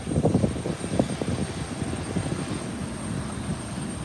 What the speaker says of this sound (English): Of course, it is the United 737 MAX.